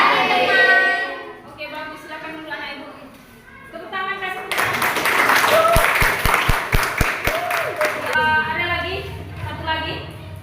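Students in a classroom clap together in a short, loud burst of applause with a few rhythmic claps at the end, and a teacher speaks before and after it.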